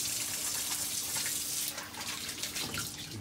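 A kitchen tap runs steadily while hands are washed after slicing hot peppers, giving a close, hissing stream of water whose splash shifts partway through as the hands move under it.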